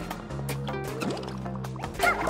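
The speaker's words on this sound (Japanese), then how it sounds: "泡が出る。" Bubbles released by Peach in Super Mario Bros. Wonder make a quick, wet, gurgling burble of soft pops layered over steady background game music, lasting only a couple of seconds.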